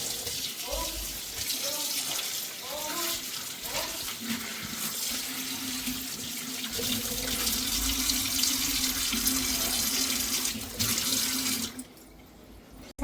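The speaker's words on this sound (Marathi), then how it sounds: "मी आधी धुवून घेते हा पालक" Steady running tap water splashing into a sink as spinach is rinsed, continuous and fairly loud, ending abruptly near the close.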